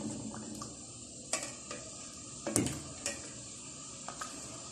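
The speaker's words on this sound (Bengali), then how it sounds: "চিনি দিয়ে দুধটা আবার জাল দিয়ে দিচ্ছি।" Milk sweetened with sugar simmers in a pot on the stove while a spoon stirs it, giving soft scrapes and a few sharp clinks against the metal over a faint, steady hiss of heating.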